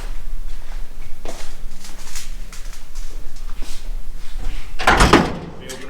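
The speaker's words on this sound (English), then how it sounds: "We open our door up." Race car door opening in a garage, with faint knocks and shuffling followed by one loud clunk near the end.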